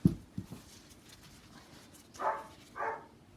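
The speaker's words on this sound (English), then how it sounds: "Dog got all barky there." A dog indoors gives a few short barks followed by two drawn-out, higher whimpers, fairly close and separated by quiet pauses.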